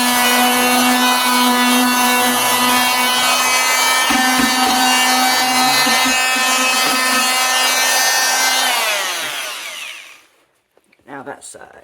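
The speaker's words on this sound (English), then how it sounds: "Alright, so I'm gonna sand my edges down" Sanding the edges of a wooden toy shelf with a power tool, a loud steady buzzing whine that runs for about nine seconds before cutting off, followed by brief handling clatter.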